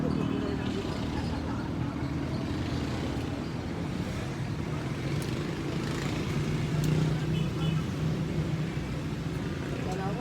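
Motor rumble of tricycles and passing traffic at a roadside tricycle queue where drivers wait, a continuous low engine drone swelling slightly as vehicles go by, with a person talking over it.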